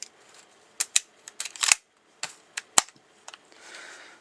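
An electric Walther P99 blowback airsoft pistol gives a series of sharp, close, snappy clicks and cracks, some single and some in quick bursts, followed by a brief soft hiss.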